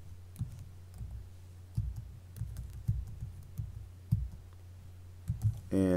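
Fingers tap the keypad of a TI-30XS calculator while numbers are entered, producing soft, close plastic clicks in an irregular run over a low steady hum.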